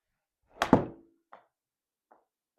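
A golf ball is struck with a 54-degree wedge in a Trackman simulator, one sharp thunk of contact, then two faint soft thuds trailing after in a quiet room.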